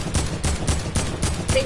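Video game gunfire on PS4, a rapid string of evenly spaced shots, about six loud bursts in quick succession, each with a low thump and bright crack.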